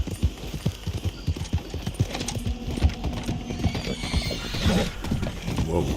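A horse in the Red Dead Online video game whinnies while its hooves clip-clop in a steady, close rhythm, the whinny rising near the end over the continuing hoofbeats.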